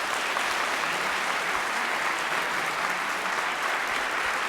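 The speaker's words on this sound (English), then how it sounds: "how about another round of applause for Emanuel Ax?" An audience applauds a pianist after a live classical performance in a studio, a steady, dense wash of clapping hands that holds evenly throughout with no voices over it.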